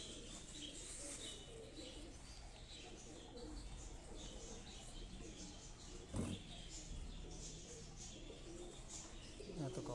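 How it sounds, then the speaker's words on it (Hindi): Breeder pigeons in cages coo softly and chirp in a pigeon-keeping setting, faint low calls that repeat under a steady background hum, with a brief louder knock partway through. "ये सामने जो केजेस हैं इनमें भी सारे भट्ट साहब के ब्रीडर कबूतर हैं"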